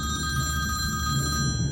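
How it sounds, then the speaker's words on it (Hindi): A telephone rings in a horror movie scene, a steady electronic bell tone with sharp harmonic lines repeating over a low background rumble, close and fairly loud, with no voices. "और इमीडिएटली लुकास को फोन किया।"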